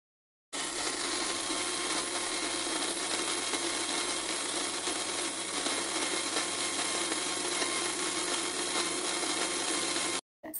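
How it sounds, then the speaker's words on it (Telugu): An electric blender whirs loudly and continuously as it churns coconut water and other ingredients into a coconut crush, running steadily before stopping abruptly. "ఇవన్నీ బాగా బ్లెండ్ చేసుకోవాలండి."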